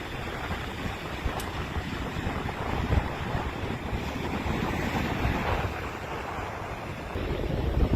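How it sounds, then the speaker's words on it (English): Strong storm-driven waves pound a beach shore with a constant, loud roar of surf, mixed with heavy wind buffeting the microphone and no voices. "You can see the waves pounding against the shore."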